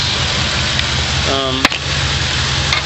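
A car engine with a suspected faulty coil pack idles roughly up close, a steady low rumble with slight unevenness, a brief whine and a sharp click partway through.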